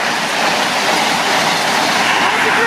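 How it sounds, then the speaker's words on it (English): Train rolling past a level crossing at Barnby Lane in Lincolnshire, a close, continuous rushing roar with faint wheel clatter, steady and loud throughout. "there's a train coming first."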